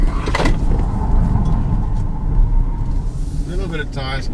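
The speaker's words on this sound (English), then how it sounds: "A little bit of tire squeal, but nothing too untoward" A Haval H6 SUV's tires squeal through a tight hairpin, a thin sustained whine riding over heavy road and engine rumble inside the cabin, with a voice speaking near the end.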